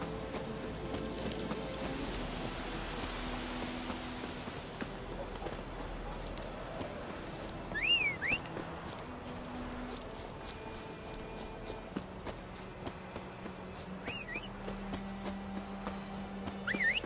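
Hooves of Roach, Geralt's horse in The Witcher 3, clip-clop steadily throughout under background game music and ambience, with a couple of brief whinny-like calls.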